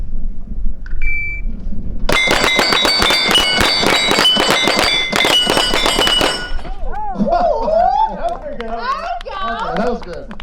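Rapid exhibition shooting at SHOT Show 2023, gunshots ringing off steel targets in a fast, tight string of sharp metallic clangs for about four seconds, then a person talking as the firing stops.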